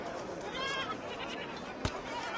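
A goat bleats in quavering calls, moderately loud amid a busy outdoor scene with voices around it, followed by a sharp knock.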